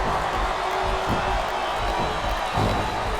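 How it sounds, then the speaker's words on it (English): Arena crowd noise from the SmackDown vs Raw 2007 wrestling video game, a steady roar of cheering that holds evenly throughout with a slight swell near the end, no voices standing out. "Listen to the crowd, JR."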